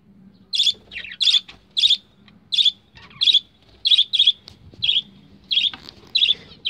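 Young birds in a nest box chirp in repeated high, bright bursts about every half second while the parent feeds them, close and clear over a faint low hum.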